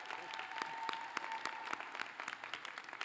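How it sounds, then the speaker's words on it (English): Audience applause at the 2024 Brandeis School of Law graduation, a sustained mass of clapping with scattered sharp individual claps standing out, fairly distant and soft, and a faint tone lingering in the background. "could we please give her a round of applause?"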